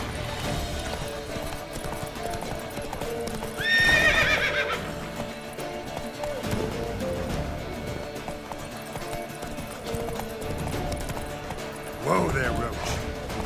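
Roach, a horse in a video game, clops steadily on hooves under a continuous game soundscape, giving two distinct neighs, one loud near the middle and another near the end, while someone speaks softly to it.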